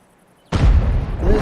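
A deep, heavy boom from an M40/M43 self-propelled artillery gun firing on a Chrysler tank in a tank battle video game: abrupt loud onset after brief quiet, then a rumbling low-end roar and rolling tail.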